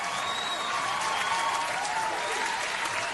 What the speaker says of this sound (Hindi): बहुत ही ताली बजाओ ताली